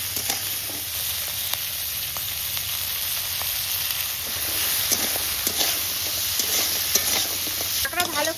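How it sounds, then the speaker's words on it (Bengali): Crabs fry with turmeric and salt in a very hot wok, giving a continuous bright sizzle with scattered crackles and occasional stirring scrapes, steady and moderately loud throughout with no talking. "এবার কাঁকড়াগুলো ভেজে নিচ্ছি।"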